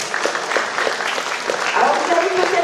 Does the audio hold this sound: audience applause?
yes